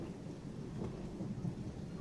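Low, continuous rumble of thunder during a lightning storm with a tornado nearby, rolling steadily throughout at a moderate level with a few swells and faint rain mixed in; no voices.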